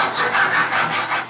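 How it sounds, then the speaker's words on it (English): A metal file scraped back and forth across a hardened, twisted Damascus steel blade, giving a loud, close rasp in about five even strokes with nothing else heard. "go scrape a file across them and see if they got hard"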